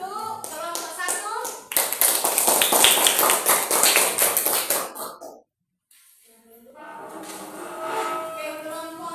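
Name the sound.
applause for group 1 in a classroom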